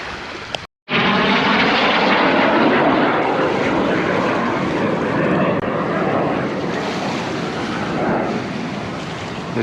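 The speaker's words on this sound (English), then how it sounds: "The jets are doing some crazy maneuvers." Jet aircraft of the Canadian Snowbirds aerobatic team roaring overhead during an air show on Vancouver Island, a loud sustained broadband rush that swells and slowly fades after a brief cut at the start, with no talking.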